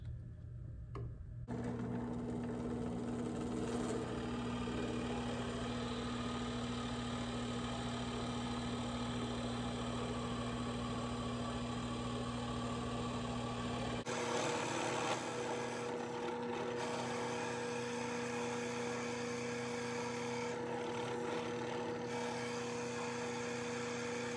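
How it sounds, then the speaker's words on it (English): Steady mechanical whirring of a drill running a 5/8-inch Forstner bit continuously, with a constant motor hum and a shift in pitch partway through as the bit works into wood. "now I'll switch to a 5/8 inch Forstner bit"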